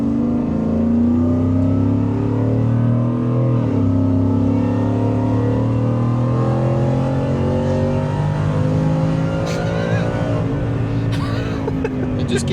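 Supercharged Whipple Ford F-150 King Ranch with a Coyote V8 accelerating hard through each gear, its loud engine note climbing and dropping at the shifts, with people talking over it inside the cab.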